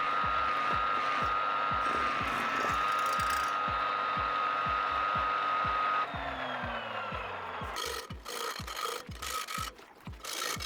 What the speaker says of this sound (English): I drill a hole so the tool can be mounted on the tool bar.